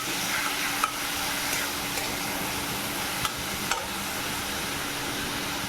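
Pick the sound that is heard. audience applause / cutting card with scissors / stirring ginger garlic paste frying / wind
stirring ginger garlic paste frying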